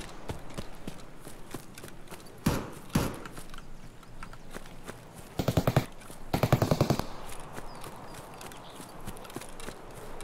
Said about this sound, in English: I heard shooting.